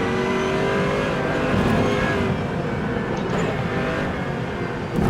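A race car engine in the RENNSPORT racing game revs and accelerates, a loud, close, continuous roar that rises and holds with shifting pitch throughout, with no talk.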